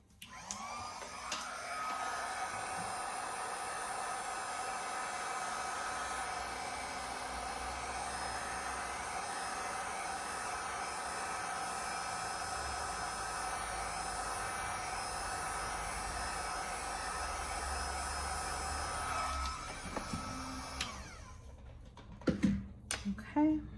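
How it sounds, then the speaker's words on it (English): A heat gun blows a steady, loud whooshing whine over a resin mold for about twenty seconds, then cuts off, followed by a few handling knocks at the end. "let me just go over that with a heat gun"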